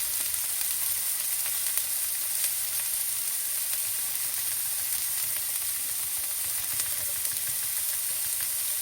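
Onion, garlic and ginger frying in a pan over medium heat, a steady, even sizzle and hiss that continues without a break and without any talk.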